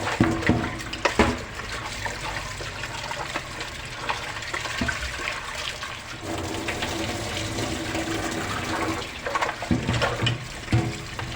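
Pork for adobo is rinsed under running tap water, a continuous splashing flow with handling clatter and sloshing bursts, close by and steady throughout.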